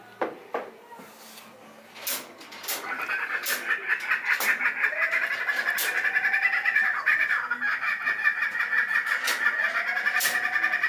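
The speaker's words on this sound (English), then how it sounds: "she's gonna play the cuckoo bird call" A recorded cuckoo bird call plays steadily, a sustained repeating tonal call that carries for most of the stretch after a few knocks and rustles at the start, with no talking.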